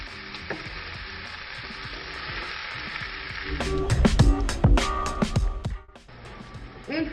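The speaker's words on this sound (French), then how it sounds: "Mettre 2 cuillères d'huile dans le poêle et mettre les oignons dedans. Par la suite, on va ajouter notre viande hachée." Onions and ground meat fry in oil in a pan, a close, steady sizzle that grows louder and more crackly midway as the food is stirred, then briefly dips before resuming.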